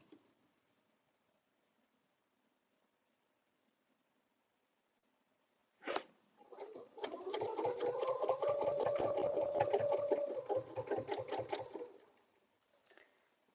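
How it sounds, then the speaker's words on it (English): Sewing machine stitching backward through paper-pieced fabric for a butterfly dresser scarf: a soft clunk, then a steady rapid mechanical whir with rhythmic needle ticks, close and fairly quiet, stopping after several seconds. "And now I'm going to stitch back. That little clunk, clunk, clunk is"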